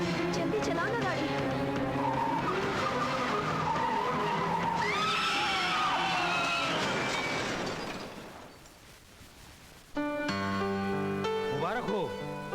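A car driving fast with squealing, skidding tyres, loud and close, with dramatic music and a shouting voice layered over it; the sound briefly drops away before another burst of squealing.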